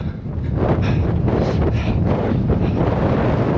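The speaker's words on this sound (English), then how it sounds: "This wind is crazy." Strong coastal headwind batters the microphone of a runner out near Padstow, a loud, constant rumbling roar with gusty surges throughout and no speech.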